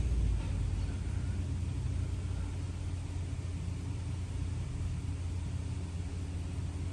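A 2008 Dodge Caravan 3.3L engine with a cylinder 3 misfire, revved lightly and running close by as a steady, rough low rumble throughout.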